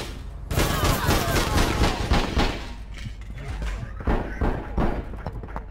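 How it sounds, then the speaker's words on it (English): Rapid bursts of gunfire in the online shooter game APB Reloaded, loud repeated shots and volleys all through, with voices talking over the shooting. "Four shots on him."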